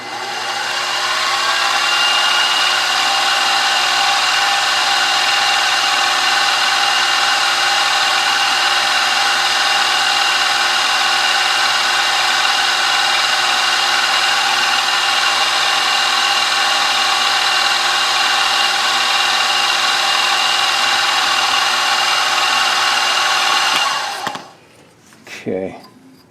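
A power drill with a small 3/32 bit bores shallow holes about 0.234 inch deep in a cylinder head part for an Elmer's #10 wooden grasshopper model engine, a steady loud whine running unbroken for about 24 seconds before stopping abruptly, followed by brief clatter.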